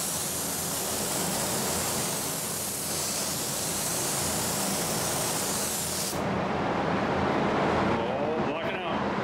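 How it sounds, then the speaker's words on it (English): A spray gun lays a black base coat on a widebody 1970 Challenger, a steady loud hiss that stops abruptly near the end, leaving quieter room sound. "we're just gonna do a couple coats of the base coat black"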